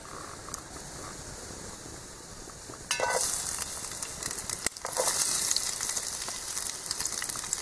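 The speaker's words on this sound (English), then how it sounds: "Put some oil in there. And start heating that a bit." Oil heats in a Crusader mess tin during outdoor cooking, starting as a faint hiss and rising into louder crackling sizzle with a sharp clatter midway, continuing steadily up close.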